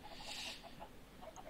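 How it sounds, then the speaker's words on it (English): Chickens and chicks in the Minecraft video game cluck in a soft, repeated series of short calls, faint and steady with no talk over them. "Here's all the chickens, all the chicks."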